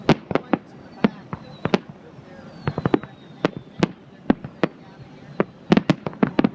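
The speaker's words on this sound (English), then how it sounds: "The fireworks are going off." Fireworks bursting at the Electric Daisy Carnival in Las Vegas, a rapid irregular series of sharp cracks and booms, some clustered together, with a person talking at times in the background.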